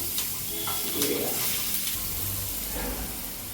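Chopped onion frying in a pan for an egg ghotala, a dense steady sizzle with occasional stirring scrapes, close and even in level throughout.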